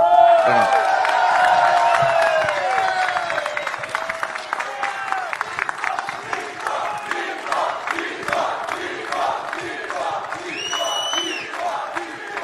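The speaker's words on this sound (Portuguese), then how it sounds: "Por que estão aplaudindo o Bolsonaro?" Audience of mayors applauding and cheering for former president Jair Bolsonaro at a formal gathering, a dense sustained wash of clapping with whoops and shouts across the whole stretch.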